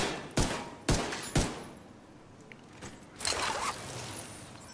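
Pistol fire in the shooter video game The Division 2: three sharp, evenly spaced shots close up, followed by a quieter stretch with softer mechanical clatter and a brief burst of rattling effects.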